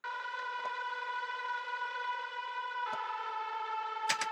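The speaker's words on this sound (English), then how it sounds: "That instrument sound is from a Kontakt library called Devastator Warzone here." Sustained high-pitched synth layer from the Kontakt library Devastator Warzone, a steady siren-like tone held alone for several seconds with a few brief clicks and accents.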